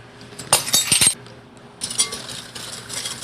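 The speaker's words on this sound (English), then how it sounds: "Whisk that in and make sure there's no lumps in the bowl." Brown sugar and vanilla get whisked into melted chocolate and butter in a bowl: two bursts of rapid, bright clinking whisk strokes, loud and close, with a short pause between them.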